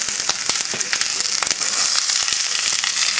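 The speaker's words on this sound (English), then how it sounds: "I'm going to add the vegetables now." Vegetables hitting a hot pot beside a pork hock set up a steady, loud sizzle with crisp crackling pops that thickens and grows denser partway through, close up and without any voices.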